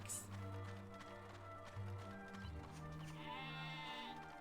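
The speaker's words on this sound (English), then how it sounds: "Okay, I really need to know what sound the sheep makes." Sheep bleating in the video game Dragon Quest VIII, a short, faint bleat over game music and running footsteps.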